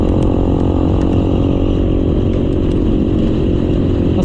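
Motorcycle engine droning steadily while riding fast along an expressway-like route in Pampanga, a loud, continuous close-up hum with rough low rumble and no breaks.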